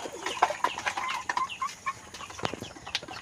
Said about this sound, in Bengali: এখানটায় হচ্ছে আমার টাইগার মুরগিগুলো, আর একটা দেশি মুরগিও আছে এখানে